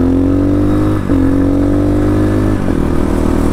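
A 2023 X PRO Titan DLX dirt bike engine runs hard while riding, with short 13-tooth front gearing. The engine drones loud and steady up close, with brief dips in pitch at gear changes.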